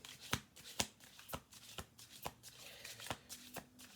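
A deck of cards is shuffled over and over, giving close, crisp riffles and snaps in a steady rhythm of about two per second.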